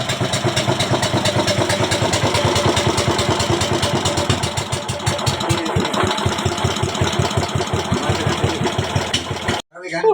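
A boat's flooding engine just started and running, a loud, close, rapid chugging pulse holding steady for about ten seconds before briefly cutting out near the end.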